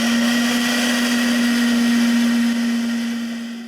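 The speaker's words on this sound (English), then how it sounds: "So this is how loud the BlendBoss is." Ninja BlendBoss blender running a self-clean cycle with soapy water, a loud steady motor whine with a strong constant hum that eases off slightly at the end, no talk.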